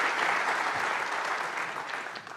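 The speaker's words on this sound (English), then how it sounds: "Let's give a round of applause for these panelists." An audience applauds panelists at a conference, dense steady clapping that slowly fades over a couple of seconds.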